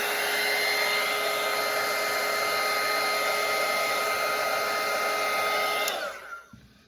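A hair dryer blows over a wet watercolour painting with a loud, steady whir that holds for about six seconds, then switches off and winds down.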